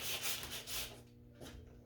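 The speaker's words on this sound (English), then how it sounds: "I'm just gonna wrap it in sandpaper and just start sanding." Sandpaper wrapped around a small screwdriver rubs across curved wood on a kitchen cabinet, giving soft, close scratchy strokes that fade after the first second, with no voices.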